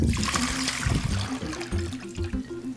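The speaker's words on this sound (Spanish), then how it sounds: "Agua." Water poured into a pot for making sugar syrup for a mint-water drink, a steady splashing stream with gurgling filling sounds, fairly loud and close, with no talk.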